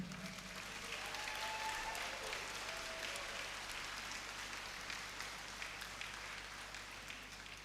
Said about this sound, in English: Ladies and gentlemen, let's give a big round of applause to Natasha Ho Zi Ying.